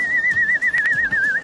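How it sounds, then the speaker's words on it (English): A single steady, piercing whistle from a film soundtrack, held as one wavering tone with a slight vibrato, loud and close with no talk over it. "It's such a perverted whistle."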